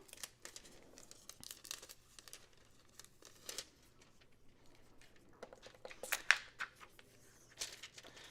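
Acetate panel being cut down for layered foiling, a quiet, close series of crinkling, rasping cuts and plastic rustles in irregular bursts with short pauses between them.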